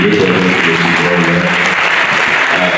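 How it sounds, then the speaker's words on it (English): An audience at an annual international conference breaks into sustained, loud applause, dense steady clapping filling the room from start to finish. "Can we clap for him?"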